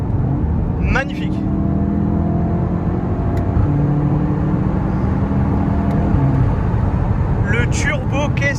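A Volkswagen Golf 7R with a turbocharged engine and a Maxton Design exhaust gives a steady low engine drone under loud, continuous talk, with no clear separate rev bursts.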